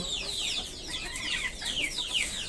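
Chickens clucking in a coop, a rapid series of repeated high clucks in bursts, fairly close and clear with no talking.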